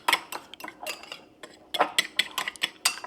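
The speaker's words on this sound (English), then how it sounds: "Just need to mix this up" A spoon clinks and scrapes against a bowl in quick irregular taps while keto cinnamon roll filling is mixed, close and clear with quiet gaps between strokes.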